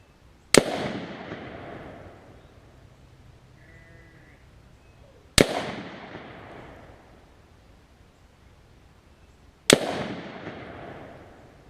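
Three sharp rifle shots ring out several seconds apart while a tactical scope is zeroed, each a loud crack followed by a decaying echo over a quiet outdoor background.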